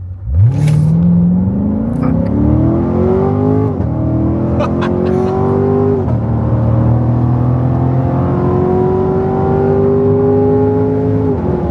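A car launches hard from a standstill, its engine and exhaust rising in pitch through several gear changes with brief dips between them, loud and close from inside the cabin, no talking.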